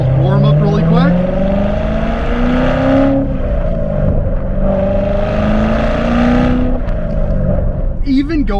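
A 2017 Corvette Z06 with a manual gearbox revving during warm-up in a parking lot, loud and close, with two rising-and-falling rev sweeps that climb and drop back to a throaty idle.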